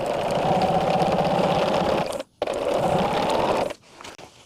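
A sewing machine stitches mushroom quilt block pieces together, a steady close whir running continuously, cutting out briefly, resuming, then stopping near the end.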